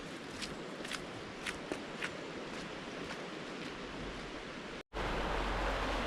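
Fast-flowing River Lund in the Lake District, a continuous rushing of water close by, with a few soft crunching footsteps near the start and a short break just before the end.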